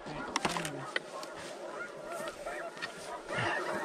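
Geese during a duck and goose hunt give a chorus of repeated honking calls at moderate distance, overlapping in a busy cluster with a few sharper honks standing out.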